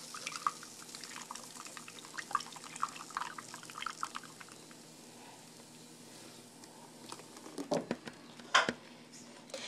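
Flan custard mixture pours into a baking dish with a soft, trickling liquid patter, then a few louder drips and splashes near the end, close and quiet.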